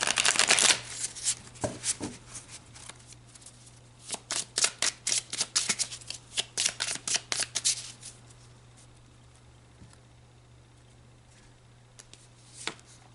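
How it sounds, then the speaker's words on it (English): Tarot cards being shuffled, a quick run of crisp riffling snaps at the start, then a longer dense burst of papery flicks, ending in a few sparse taps against a quiet room. "so let's pull some more cards"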